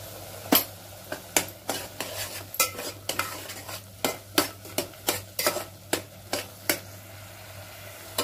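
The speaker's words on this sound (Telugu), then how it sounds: "ఇప్పుడైతే మసాలా బాగా వేగాలండి, ఎందుకంటే పచ్చి వాసన రాకుండా వేయించుకోవాలి." Masala for rajma curry fries with a soft sizzle while a spoon is stirred against the pan, producing a steady string of sharp metallic scrapes and taps close by, with no talking.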